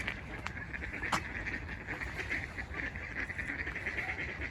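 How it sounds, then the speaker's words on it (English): Swans calling near a walking path, with honking calls over steady outdoor background noise. "We just saw those swans there, thought we'd get those in, eh?"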